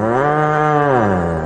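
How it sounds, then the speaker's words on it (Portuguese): An old ox lowing on a small farm, one long, loud, steady moo with rich tonal harmonics that sags slightly in pitch toward the end, heard alone and close. "Te afasta pra lá, boi velho nojento."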